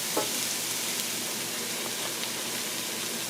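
Cumin (geera) sizzling in a hot pan while frying aromatics for lobster curry, a steady faint crackling fry with no talk.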